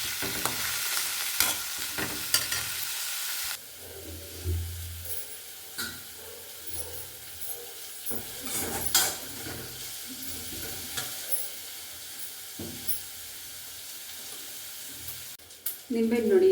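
Dill and coriander leaves frying in hot oil for a lemon rice dish, a soft continuous sizzle with intermittent stirring scrapes and utensil knocks, louder at the start and fading to a gentler crackle.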